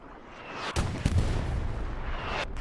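Artillery shells land in a multiplayer war video game: a low rumble builds, then a sharp blast hits and a second quickly follows, leaving a loud, continuous roar of battle.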